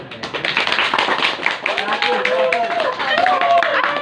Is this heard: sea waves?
no